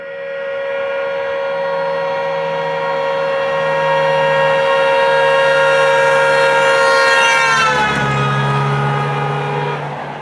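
A steady single-pitched tone with rich harmonics sweeps down in pitch as a vehicle passes close by, loud and continuous, with engine rumble beneath.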